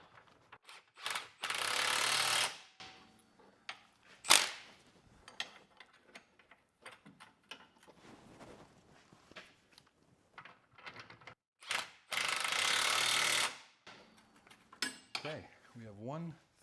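A ratchet wrench tightens the lower control arm pinch bolts on a GMC Acadia, giving several bursts of rapid ratcheting clicks with pauses between them and a few brief metallic knocks.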